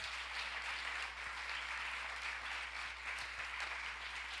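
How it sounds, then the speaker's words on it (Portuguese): Steady congregation applause at a church service, an even wash of clapping held for the whole stretch with no pauses, moderately distant and fairly soft. "Dê um aplauso a Jesus"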